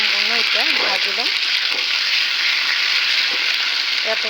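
Tomatoes and onions fry in a pan with a constant loud sizzle and occasional stirring clatter, close and steady throughout.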